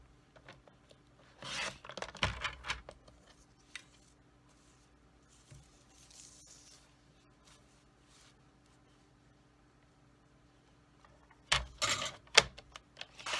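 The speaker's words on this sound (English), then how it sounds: "I'm going to cut another little piece off of that." A small piece of card paper is cut for a handmade card, with short bursts of crisp snipping and rustling near the start and again near the end around a quieter stretch; no speech.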